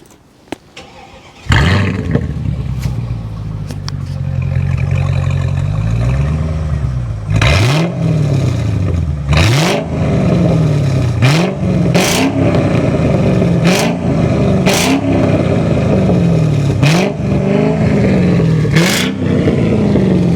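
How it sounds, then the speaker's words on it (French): A Mercedes CLK 500's naturally aspirated V8 engine cranks and catches, then idles with a deep rumble before being revved repeatedly in sharp, loud bursts, each rising and falling in pitch. "Je veux bien que tu démarres la voiture,"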